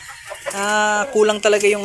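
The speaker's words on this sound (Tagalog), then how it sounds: "yung update natin dito sa mga alaga nating mga manok" Rhode Island and Brahma chickens in a backyard flock cluck close by, with a sustained call and a few shorter clucks mixed in as someone talks.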